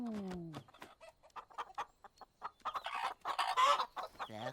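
Several chickens in an animated series cluck and squawk in quick bursts close by, with a drawn-out call at the start and busier clucking toward the end.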